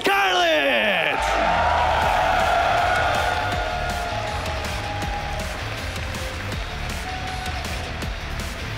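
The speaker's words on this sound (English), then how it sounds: "Ladies and gents, scream for Neeb and Scarlett!" Arena crowd at a StarCraft II esports tournament quarterfinal in Montreal roars and whoops loudly, a sustained wall of cheering that swells then settles, with an announcer's voice over it at the start.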